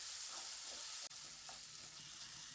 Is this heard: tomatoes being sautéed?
yes